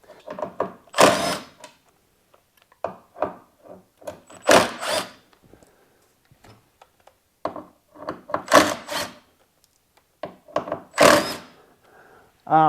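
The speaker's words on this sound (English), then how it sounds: "I'm using power tools for this" Repeated short bursts of a powered tool driving studs into a car's taillight housing area, whirring and buzzing in quick runs with pauses between, close and fairly loud, no voices.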